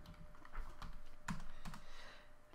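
Computer keyboard typing, steady clustered keystrokes with a few sharper clacks, as a Christmas wish list to Santa is written; close and alone, no voices.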